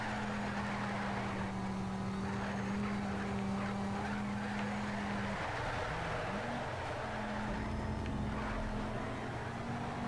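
Race car engine in the video game Need for Speed: Shift droning steadily at high revs against the limiter, with a constant hum that shifts pitch midway, plus tyre and track noise throughout.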